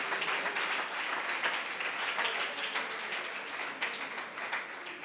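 A church congregation claps together during a sermon by Pastor Gerardo Anturi, producing an even, sustained patter of many hands at moderate loudness without talk.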